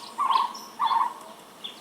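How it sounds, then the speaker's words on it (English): Two clear, loud call phrases from a Cuban trogon, a tropical bird of Cuba, spaced about half a second apart, with a faint third note near the end, in a quiet outdoor setting. "The national bird is the Cuban trogon, which has the colors of the Cuban flag and a very interesting tropical call."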